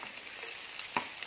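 Textured vegetable protein tossed in a hot pan, steady soft sizzling and frying hiss with one short clack of a utensil, quiet and alone.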